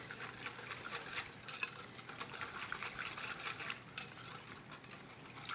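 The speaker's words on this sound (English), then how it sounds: "now I'm gonna give it a final whisk, get all that sugar incorporated into the heavy cream" A whisk beats sugar and spices into heavy cream in a bowl, giving a quiet, rapid, continuous wet clatter and swish that stays steady for several seconds at close range.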